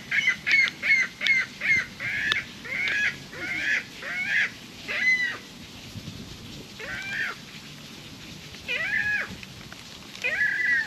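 Seagulls calling near a wilderness cabin: a rapid run of loud, close, strident cries, then more spaced single and paired calls over a low background rumble.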